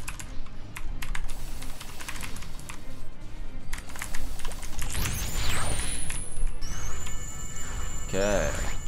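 Rapid keyboard typing clatters steadily throughout during a game of MapleStory-style boss fighting, with dense game effects, chimes and rising tones layered over the keys.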